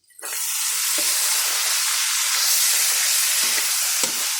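Pork and kangkong (water spinach) stems fry in a hot pan, bursting into a loud, close sizzle that holds steady, with a few stirring knocks near the end and no talk.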